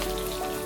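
Curry leaves sizzle briefly in hot oil, a dense close spitting hiss.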